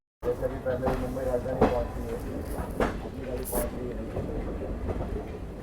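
The Varanasi–New Delhi Mahamana Express pulls away, heard from inside a general-class coach as a steady rumble with rhythmic clacks, and voices murmur in the background.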